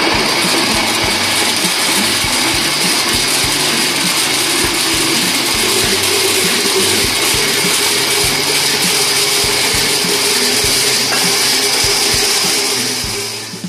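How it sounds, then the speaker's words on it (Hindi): A kitchen blender whirs loudly and steadily as it purées falsa berries with a little water for sherbet, a dense continuous motor roar that holds for the whole stretch before tapering off at the end. "इसके अंदर थोड़ा सा डालेंगे पानी और देंगे ब्लेंडर के ढकना और हम इसको ब्लेंड कर देंगे।"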